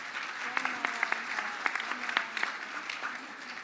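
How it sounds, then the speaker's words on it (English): Audience at the Mille Lacs Band of Ojibwe State of the Band address applauding steadily, a dense wash of many hands with a few sharper claps standing out, moderately near and continuous throughout. "Let's give them one more round of applause"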